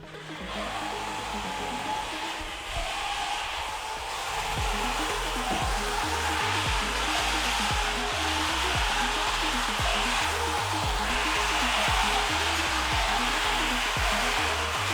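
A food-serving robot with its motor switched on hums as a steady, close, continuous whir, with rhythmic low-pitched clunks and rolling thumps throughout.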